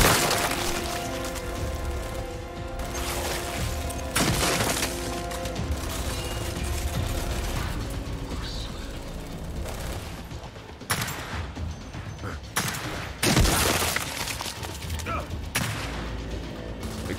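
Dense, rapid gunfire at enemies in Gears 5, with sharp cracks and bursts stacking into a near-continuous loud barrage over the whole stretch, broken by a few heavier impacts near the end.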